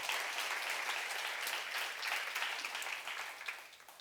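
A church congregation claps together during a seminar sermon, a steady, fairly even burst of many hands that holds for several seconds and then thins out near the end.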